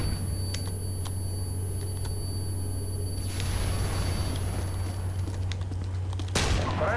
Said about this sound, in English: Just preemptively shooting.